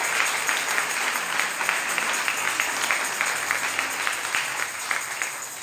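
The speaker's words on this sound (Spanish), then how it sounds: "démosle un aplauso a nuestro Dios" A church congregation applauds together with steady, dense clapping that holds at an even level for several seconds and then eases off slightly toward the end.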